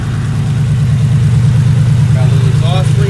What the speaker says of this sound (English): We can go ahead and we can start the engine up for a short period of time, 30 seconds or so, and we can listen.